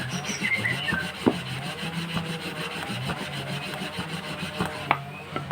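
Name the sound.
turning and rubbing engine part while lapping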